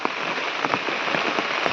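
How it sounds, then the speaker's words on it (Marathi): Steady rain pattering on a surface, a dense even hiss with scattered louder drops, no voices. "आता पाऊस पण इलो हा"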